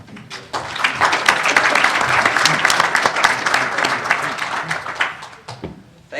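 Audience applause fills a hall as a congressman takes the stage at a hearing-style event, a dense, steady clapping wash that holds loud for several seconds before tapering off abruptly near the end.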